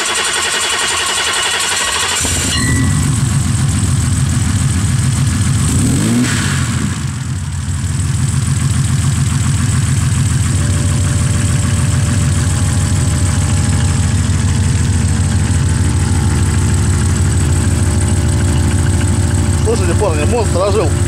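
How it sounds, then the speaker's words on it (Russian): A homemade trike with a 3.5-litre engine cranks over and catches at about two and a half seconds, then settles into a loud, steady, close idle that runs to the end, with speech over the rumble. "Ну что, парни, заводим."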